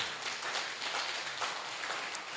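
An audience at a French-language political gathering about African development breaks into steady applause, a dense continuous patter of many hands with no pauses, fairly close and even in loudness.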